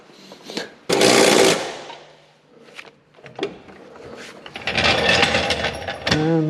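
An impact gun with a 17 mm socket tightens motor mount bolts on a Mitsubishi 3000GT/Dodge Stealth twin turbo during a transmission and clutch install, giving one short loud rattling burst and then a longer, louder hammering run near the end.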